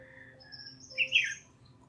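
Small birds chirp faintly in the distance, a few short squawky calls clustered near the middle, heard alone over a quiet low background hum.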